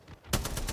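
Gunfire in a video game, a short burst of rapid shots after a quiet start, close and fairly loud, with no voices.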